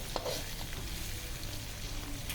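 Okra frying in a pan with chili powder stirred through, a soft steady sizzle with a few faint scraping stirs, fairly quiet and close.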